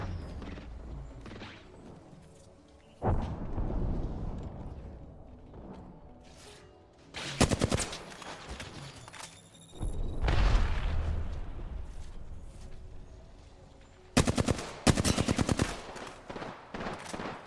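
Gunfire in a shooting video game with red armor pickups, bursts of rapid automatic fire and heavier booms coming in separate loud clusters over a steady game backdrop.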